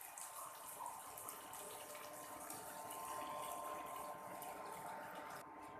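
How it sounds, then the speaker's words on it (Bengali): Water is poured into a cooking pan while making a light rui fish curry with pointed gourd, giving a soft, continuous trickling splash that stays faint and steady throughout. "এখন এর মধ্যে আমি জল দিয়ে দেব।"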